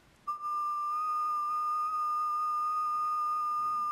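A single steady, high whistle held into the microphone of an Icom IC-7100 radio in a car, starting abruptly and sustained at a constant pitch, loud and alone.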